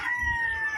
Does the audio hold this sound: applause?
no